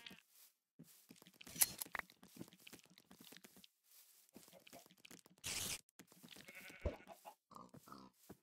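A sheep bleats in a video game, a short nasal cry among scattered tearing and rustling noises. Faint, choppy game sounds surround it, with a brief burst of noise just before the bleat.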